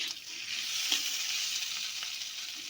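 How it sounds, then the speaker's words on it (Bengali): Fried taro pieces drop into a sizzling spice paste and get stirred, giving a steady bright sizzle with a few soft scraping stirs, close and without talk. "এবার ভেজে রাখা কচুগুলো দিয়ে দেব।"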